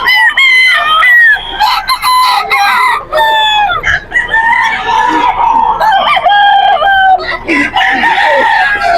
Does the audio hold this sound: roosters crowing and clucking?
yes